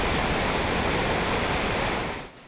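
Floodwater of the swollen Sunzha river in Ingushetia rushes through a broken dam after heavy rain, a loud, steady broadband roar of churning water that holds constant before dropping off abruptly near the end.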